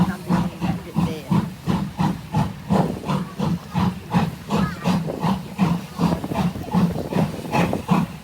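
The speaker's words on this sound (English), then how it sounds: "Steam train race." A steam locomotive at a railway workshop open day chuffs steadily and loudly, with rhythmic bursts of hissing steam in an even beat.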